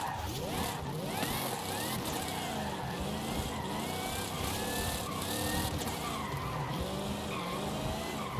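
Dom's Dodge Charger from Fast and Furious spinning its rear tires in Forza Horizon 5, a sustained loud squealing wheelspin with engine roar running steadily throughout.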